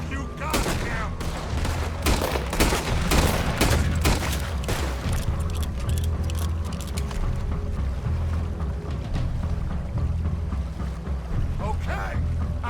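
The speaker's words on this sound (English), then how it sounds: "Put every bullet you got in him!" Heavy gunfire in Red Dead Redemption 2: dense volleys of shots packed closely together in the first seconds, then thinning into a steady rumbling din. Voices are faintly mixed under the noise.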